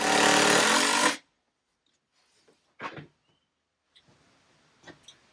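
A power drill drives screws into plywood and a 2x4, with one loud, sustained whir lasting about a second, followed by quiet and a few faint knocks and handling sounds.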